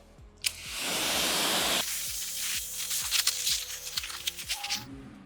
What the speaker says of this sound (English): We are going to do a final rinse and we're gonna get her pulled in